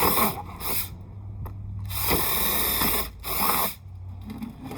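A power drill grinds through two plant pots stacked together, in several rough, uneven bursts with brief gaps between them. The drilling is close and moderately loud, with no talking.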